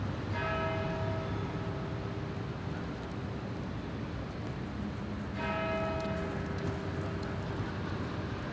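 A church bell tolls near Westminster Abbey in London, striking repeatedly at a steady slow pace with a ringing, sustained tone over busy outdoor ambience.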